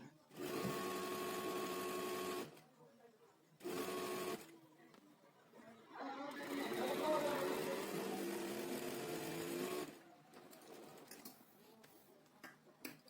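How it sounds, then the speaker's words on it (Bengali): Sewing machine stitching the cuff of a shirt in bursts: a run of about two seconds, a short second run, then a longer rattling run of several seconds, with quiet pauses between them. "প্রথমে আমি কাপটাকে সেলাই দিয়ে আটকিয়ে নিচ্ছি"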